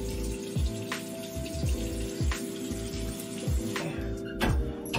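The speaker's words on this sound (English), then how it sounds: "So I'm washing it off." Water at a sink is splashed repeatedly onto a face in rhythmic handfuls, each wet slap standing out over a steady running trickle close by.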